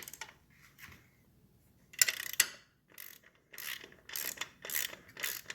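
Wrench ratcheting on the cylinder head nuts of a 1968 Triumph Bonneville, heard as several quick bursts of metallic clicking with short pauses between them, close and fairly quiet.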